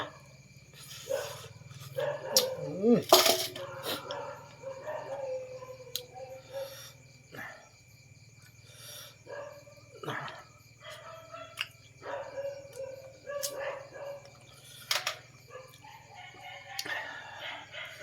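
A dog barks several times outdoors in a rural Thai setting, sharp yaps spread across the stretch against a background of chirping crickets, with a rooster and faint voices now and then.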